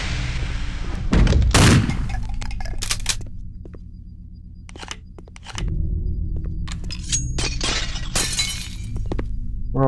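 Glass shattering in a first-person shooter game, several sharp crashes and tinkling breaks, loud and close, over a low droning background hum, with bursts clustered early and again later.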